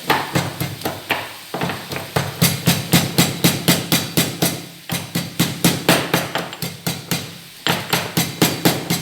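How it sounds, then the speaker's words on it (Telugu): Ginger and garlic are pounded in a steady run of loud, close thuds with brief pauses between bursts. "దీంట్లో ఇప్పుడు అల్లము తెల్లగడ్డ కుట్టి వేద్దామండి"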